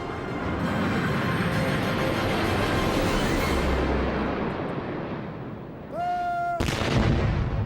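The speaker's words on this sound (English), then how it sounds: "there you have the gun salute, which is taking place in Green Park right now" Gun salute fired by the King's Troop in Green Park during Trooping the Colour, heard as a loud, dense rumble of booming report with distant echo, then a sharp blast near the end.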